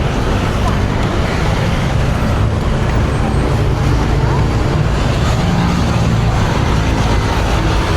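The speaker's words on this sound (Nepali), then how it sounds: "यसरी यतादेखि किस्ती आइरहेको छ" A boat moving across the water on a cool, windy day near a temple, its steady engine rumble loud and continuous alongside broadband wind and water noise.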